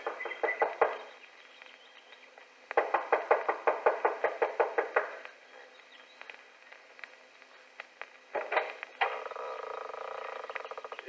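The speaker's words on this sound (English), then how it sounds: "She knocks impatiently" A woman raps impatiently on the front door of a lodge in quick bursts of knocks separated by short pauses, a rapid run in the middle, over a faint hiss of night-time background.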